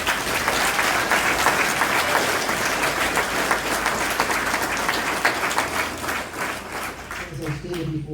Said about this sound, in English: let's please all give Laura another round of applause